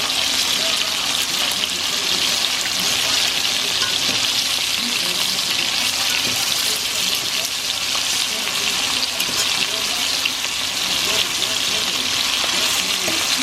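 Chicken meat browns in a hot pan with a steady, dense sizzle and frying crackle that runs continuously, close and fairly loud, with occasional stirring.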